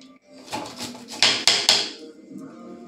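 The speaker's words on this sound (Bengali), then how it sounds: "গ্রেটারের সাহায্যে পেঁয়াজটাকে গ্রেট করে নেব" An onion is rubbed against a metal grater in a home kitchen, a few rough rasping strokes followed by several sharp clanking knocks of the tool, close and fairly loud.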